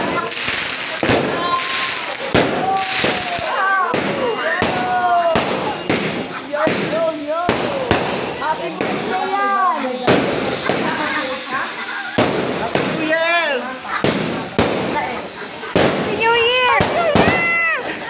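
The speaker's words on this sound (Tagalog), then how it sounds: "To end this paldong-paldong gabi, isang pasabog na fireworks ang hatid sa atin ng Mendez family" A family fireworks display at a night-time community games event in Bicol bursts in rapid, sharp pops and crackles at close range, with excited voices and chatter running throughout.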